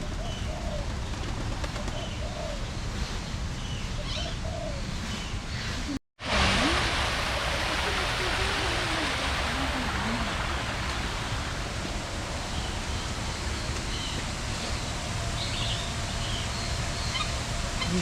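Birds call steadily at an outdoor bird park in Kuala Lumpur, dove-like coos and other calls repeating over a dense, continuous wash of ambient park noise, with a brief cut partway through.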